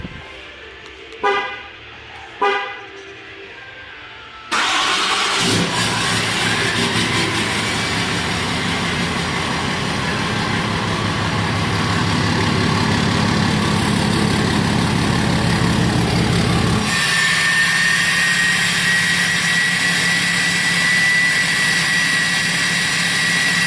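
A 2019 high-output Cummins diesel pickup engine cranks over and fires, then runs on at a loud, steady clatter and whine, close by, with a sharper, louder stretch partway through and almost no talking.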